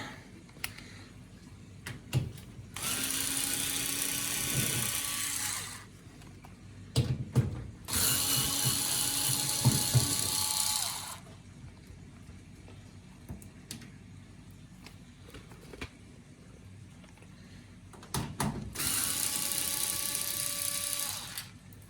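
A ratchet tool loosening bolts from the back of a Hoover Performa 1100 washing machine, in three separate bursts of rapid clicking, each a few seconds long, with quiet clunks and handling between them.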